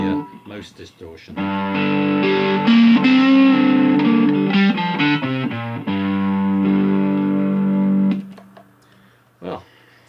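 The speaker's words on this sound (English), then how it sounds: "And this is the most distortion." Three-string cigar box guitar at its maximum distortion setting, loud buzzing sustained chords and notes played close for most of the clip before dying away into a brief quiet tail.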